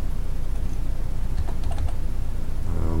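Typing on a computer keyboard, a soft continuous patter of keystrokes over a steady low hum, with a brief tonal sound near the end.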